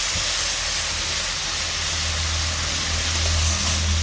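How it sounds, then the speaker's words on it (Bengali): Spice paste (masala) frying in a pan for a fish curry gives a steady, dense sizzling hiss that runs loud and unbroken the whole time, with no voices over it. "মশলাটাকে আমি বেশ ভালো করে কষে নিচ্ছি, যাতে মশলা থেকে কোনো রকম কাঁচা গন্ধ না থাকে।"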